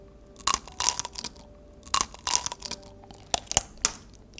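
Bites into strawberry tanghulu with a hard, glassy sugar coating make a series of crisp, loud crunches and crackles up close, followed by chewing, with no talking.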